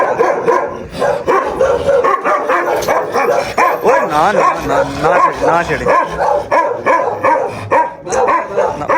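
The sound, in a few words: dog barking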